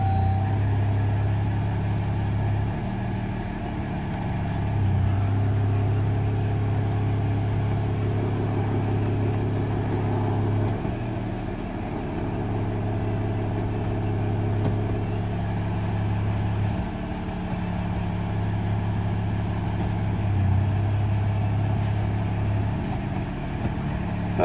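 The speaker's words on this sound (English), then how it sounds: "Now I'm going to go and start it up, and you can keep the motor running now." A car with a ZF 8-speed automatic transmission idles steadily after being started for a transmission filter service, producing a constant low engine hum that stays even throughout.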